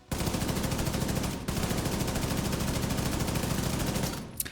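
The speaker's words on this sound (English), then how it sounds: "So I unloaded the mag in them" A full magazine emptied in a shooter video game: loud, rapid automatic fire runs continuously, breaks off briefly, then resumes in a second long sustained burst before stopping.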